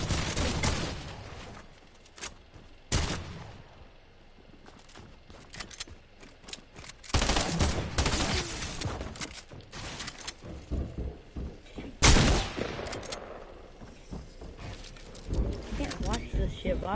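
Video game gunfire: scattered sharp shots and short bursts at varying distances, some loud and close, mixed with ongoing talk.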